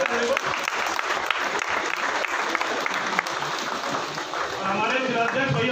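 Loud, continuous applause and clapping from a crowd at an AAP political party event in Delhi, steady throughout with some voices mixed in.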